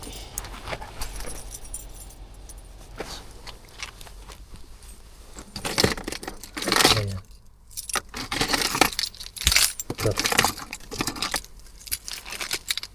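A bunch of keys jangles and clinks close by as someone swaps keys, bursts of metallic rattling in uneven clusters, with a few brief spoken words in between.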